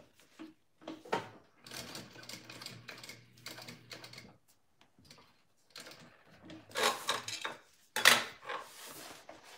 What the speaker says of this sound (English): I'm just sewing